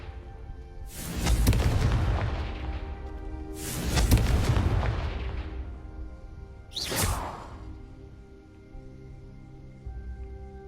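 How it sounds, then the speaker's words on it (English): Spell blasts from a fire-type Confringo cast in Hogwarts Legacy hit in three loud booming bursts, each with a whooshing rush, spaced a few seconds apart over a low ambient game rumble. "a Confringo cast travels a bit farther than that of a spell like Incendio"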